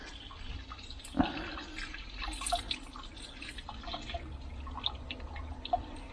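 Water runs steadily through an upflow filter and dechlorinator, a low continuous flow with scattered drips and small splashes, heard alone at moderate distance.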